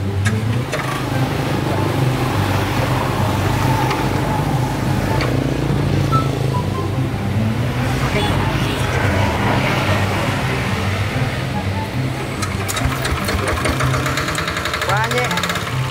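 A diesel rotary tiller engine is hand-cranked, catches and keeps running with a loud, steady knocking chug the whole time, with voices faintly under it.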